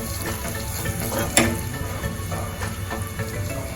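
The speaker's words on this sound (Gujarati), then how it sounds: "એક ટેબલ સ્પૂન હળદર પાવડર એડ કરીશું. મિક્સ કરી લેશું." A red chili pickle mixture with mustard sizzles steadily in a pan as turmeric powder is stirred in, giving a close, continuous fizzing hiss with a few light scraping knocks.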